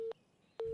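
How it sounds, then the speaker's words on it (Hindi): A telephone busy signal on an unanswered call: two steady mid-pitched beeps, the second starting about half a second after the first ends, clear and fairly quiet with no talk. "लगता है वो बिजी फोन है।"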